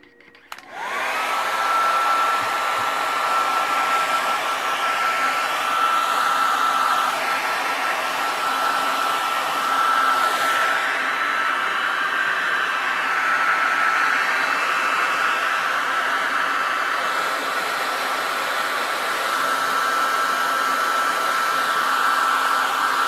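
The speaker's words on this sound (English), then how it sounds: "I may use some a little hair dryer to help dry the paint," A small hair dryer blows steadily and loudly, drying paint on whitetail deer antlers, a continuous whooshing whine that starts abruptly and runs alone without pause.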